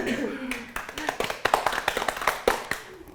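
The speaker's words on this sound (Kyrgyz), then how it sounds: "Азаматсыздар, кол чабуулар." A studio audience at a televised comedy quiz show claps in quick, uneven bursts of hand slaps, with a voice speaking over the applause.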